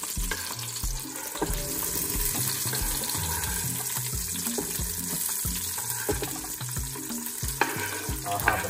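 Eggplant and tomato sizzling in a bubbling pot of jollof base, with a loud steady fry hiss and repeated rhythmic scrapes and knocks of a spoon stirring, close up with no talk.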